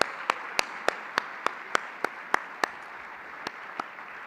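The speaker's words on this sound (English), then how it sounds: "Let's give Fareed another round of applause." Sparse applause after a keynote at an annual conference, a dozen distinct, evenly spaced claps standing out over a faint background.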